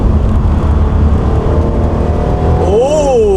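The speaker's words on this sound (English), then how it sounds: "first corner, downshift into third," A loud modified 3.8 V6 engine in a BK1 Hyundai Genesis Coupe roars steadily, then its pitch rises and falls sharply as it revs during a downshift into third gear entering a corner.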